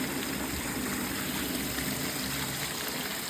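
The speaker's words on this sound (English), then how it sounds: "Pumping right into my hopper just right." Water from a small pump running on power-tool batteries gushes through a pipe into a homemade highbanker hopper made from a patio heat shield, a loud, steady, close rushing splash with no voices.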